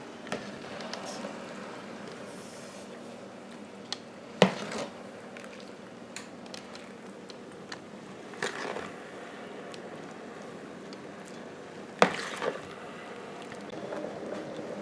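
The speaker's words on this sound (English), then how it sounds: "Then we're gonna stir it up, and guys, let it simmer for 15 to 20 minutes" A spoon stirring kielbasa and potato soup in a pot gives a few soft, scattered clinks and scrapes against the metal, quiet and widely spaced over a faint kitchen background.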